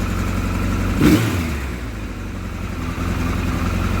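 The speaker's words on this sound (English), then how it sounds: "But listening to that engine now" A carbureted car engine running close by, with a brief rev that rises and settles back to a steady idle.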